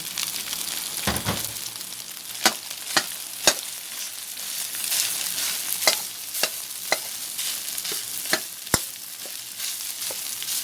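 Chicken fried rice being stir-fried in a pan: a steady sizzle broken by sharp, irregular spatula clanks and scrapes against the pan, close and loud.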